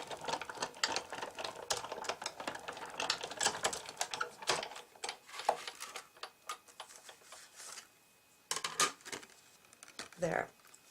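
A paper plate and card sandwich is cranked through a die-cutting machine, giving a long run of dense, rapid clicking and crunching ticks with a few brief pauses, close up and fairly quiet.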